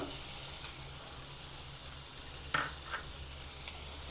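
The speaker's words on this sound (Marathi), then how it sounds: "परतून घेऊया कांदा चांगला." Onion frying in a pan with a coarse cumin and fennel mix for a paneer corn paratha, giving a steady soft sizzle with a few brief stirring clicks and no talking.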